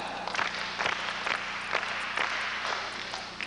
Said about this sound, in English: parents and anybody who's not in grade school, clap five times.